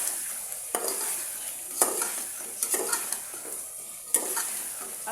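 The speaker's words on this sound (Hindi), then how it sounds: "आलू मैं भून रही हूँ, मैंने कहा आलू पहले फ्राई कर लेंगे" Potatoes frying in a pan: a steady, moderate high sizzle runs throughout, broken by a few sharp clinks and scrapes as they are stirred.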